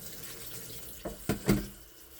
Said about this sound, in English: So make sure your noodles are rinsed off thoroughly until they're back to a cold state.